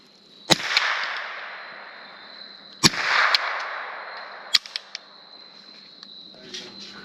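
A Chiappa M4 rifle fires .22 tracer rounds outdoors: three sharp, loud shots spaced a couple of seconds apart, each followed by a short rumbling echo, with faint mechanical clicks between them.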